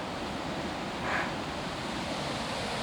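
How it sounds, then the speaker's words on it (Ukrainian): A waterfall rushes steadily in the morning, a dense, unbroken wash of water noise at moderate volume with no voices or other sounds over it. "Шум водоспада, ранок."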